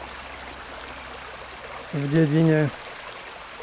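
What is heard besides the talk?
flowing water of the Veperec stream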